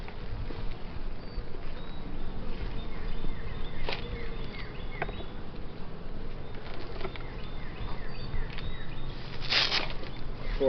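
Honey bees swarm around a hive being split, their dense, steady buzzing filling the air at close range with a few brief louder swells and no voices.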